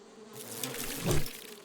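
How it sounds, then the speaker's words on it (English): A bee swarm in the survival video game 7 Days to Die, a dense steady buzzing that swells louder toward the middle before easing off, with no talking over it. "It's like a bee swarm that comes at you."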